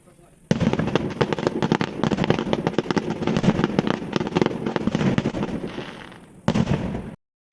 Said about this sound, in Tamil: இந்த வானவெடியை நல்லா பாருங்க நண்பர்களே